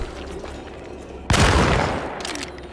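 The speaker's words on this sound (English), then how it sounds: "2 shotgun shots." A single loud shotgun blast from the video game Alone in the Dark bursts out sharply and decays over a low ambient drone.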